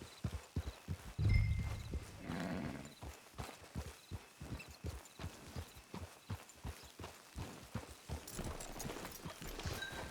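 Horse hooves clip-clop at a steady walking rhythm in the Red Dead Online video game, close and fairly loud, with a brief snort or whinny early on and no talking.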